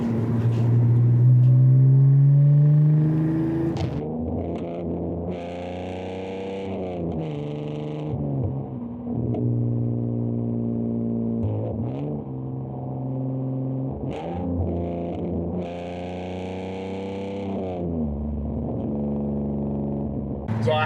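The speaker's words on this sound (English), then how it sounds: "I really do like the sound of the exhaust. It's got a nice tone to it. It really screams when you're revving high" A BMW car with a bullet muffler revs loud and close, the exhaust note climbing in repeated surges while someone talks over it.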